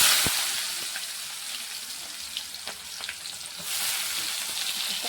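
Cumin seeds fry in hot oil in a pan for a sour tomato curry, making a steady close crackling sizzle with a few sharp pops, brightening toward the end, with no talk.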